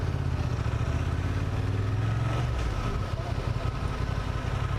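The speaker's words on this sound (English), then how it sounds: "the responsiveness of the engine, and it's got a nice sound, even though the exhaust is low" A Honda Transalp motorcycle engine rumbles steadily at low revs with a slight rise in pitch midway, surrounded by broad traffic and road noise, no voices.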